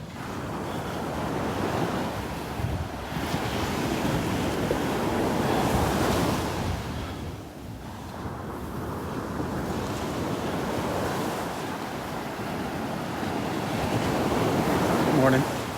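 Surf and steady wind on a Gulf beach at Delnor-Wiggins, rolling continuously with broad wash and gusting microphone wind noise throughout, fairly close, with no talk.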